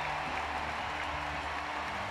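A stadium crowd at the London 2012 Paralympics applauds after God Save the Queen is played for the discus throwers, producing a dense, steady wash of clapping and cheering that holds throughout.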